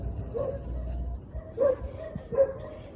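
A dog gives a few short, fairly distant barks and yips at night on a farm with livestock, spaced out over a low background rumble.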